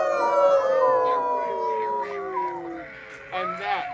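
Several people howl together in imitation of a dog baying at the moon, long sliding wails layered in overlapping voices, loud and close, tapering off before a shorter burst of howls at the end.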